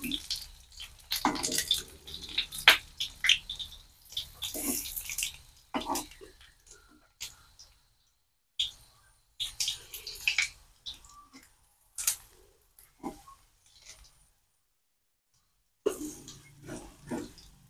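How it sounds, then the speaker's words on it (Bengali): Hot oil spattering and crackling in a pan while banana pitha fries, irregular bursts of sizzling pops up close, with pauses of near silence and occasional faint talk. "জল ছিল নাকি, বাপরে বাপ ছিটতেছে।"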